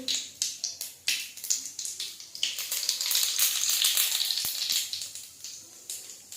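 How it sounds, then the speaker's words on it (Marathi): Cumin and mustard seeds crackle and sizzle in hot oil while cooking chivda, sounding as a dense spitting hiss that swells in the middle and comes with sharp popping ticks throughout. "मोहरी टाकलेले आहे जिरे टाकायचे"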